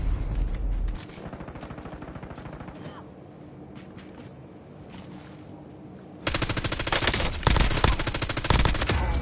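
Rapid automatic gunfire in Call of Duty: Warzone, a dense burst of machine-gun shots that grows sharply louder and more intense partway through, with battlefield clatter underneath.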